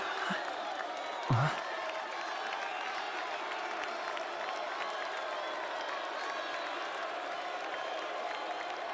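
A crowd in the video game Metaphor: ReFantazio applauds with a golf clap and murmurs continuously at moderate volume, with a brief voice cutting through near the start.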